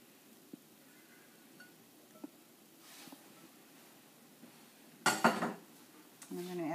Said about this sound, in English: I'm going to use my rubber scraper just to make sure I get everything out of there.